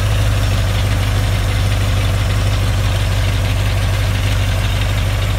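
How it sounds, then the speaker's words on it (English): An old loader converted to an International V8 engine of 549 cubic inches idles loudly and close, a deep, steady rumbling throb with constant vibration and no pauses throughout. "I'm excited to have this old loader converted to an international V8"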